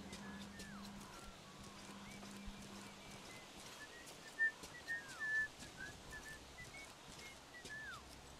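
Faint, distant whistling drifts through the Metro Exodus game world, a few rising and falling whistled notes over quiet ambient background noise, with no talking.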